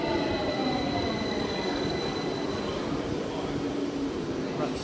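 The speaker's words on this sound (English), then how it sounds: "Right, this is going to be my train to King's Cross and Pancras." London Underground train at Tottenham Hale, bound for King's Cross St Pancras, gives a steady loud rumble of wheels on track with a faint high wheel squeal running through it.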